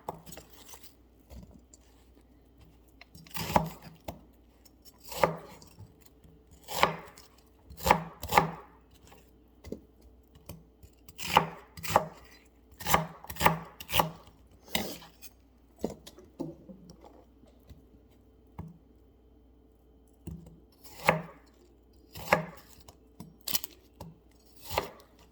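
A knife chops onions on a cutting board in a crisp, close, irregular series of sharp thuds, some coming in quick clusters with short pauses between them.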